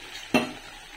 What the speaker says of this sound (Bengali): মাখিয়ে এই যে বড়া ভাজা স্টার্ট